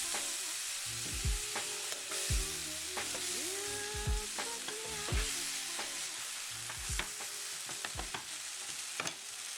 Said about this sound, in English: cooking the tofu in there until golden brown for about 8 minutes